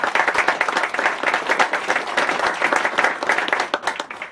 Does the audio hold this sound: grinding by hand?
no